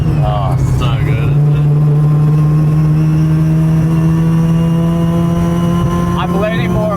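Mazda RX3 wagon with a bridgeported rotary engine revs hard and close, a steady loud buzzing drone with rising and falling pitch, while people talk over it.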